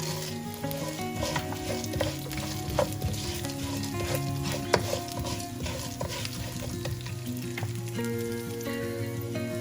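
Fennel and cumin seeds sizzle in hot oil as the base for a Chettinad chicken curry, a loud, continuous frying hiss dotted with sharp crackles and pops, with no voices.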